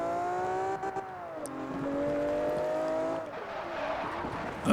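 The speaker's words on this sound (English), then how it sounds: "First time I've driven the Lamborghini in this game." A Lamborghini's engine revs in the Forza Horizon racing game, loud and up close, its pitch climbing and dropping repeatedly as the car accelerates and shifts, with no talk over it.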